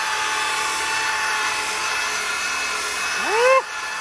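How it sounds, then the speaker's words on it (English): A drill brush whirs continuously while scrubbing the fabric interior of a car, a steady high buzzing that ends with a quick rising pitch sweep as the drill spins up before it stops. "So that's why we are drill brushing this fabric interior, to get out all of the dust"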